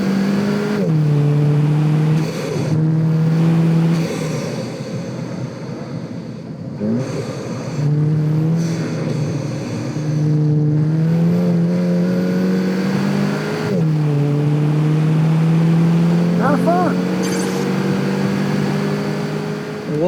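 A Volkswagen Golf GTI accelerates hard on a hot lap, its engine loud and close, revving up through repeated gear climbs with short dips at each shift.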